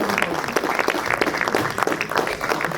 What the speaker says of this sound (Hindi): एक बार सभी कलाकारों के लिए जोरदार तालियां हो जाएं